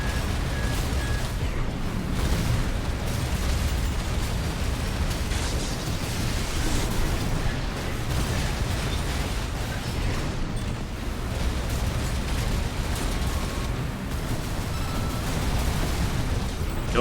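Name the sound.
missile explosions in video game Armored Core VI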